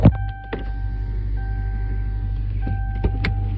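A brand-new car with about 460 miles sets off on a drive, its steady low engine hum running throughout, with a few short clicks and thumps near the start and end.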